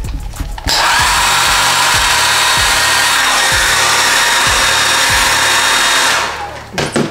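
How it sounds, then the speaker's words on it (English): A hair dryer roars loudly and steadily for about five seconds, switching on abruptly and winding down at the end, close by. "and then use the blow dryer."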